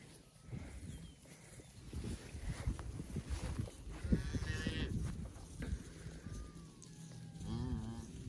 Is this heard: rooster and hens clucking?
no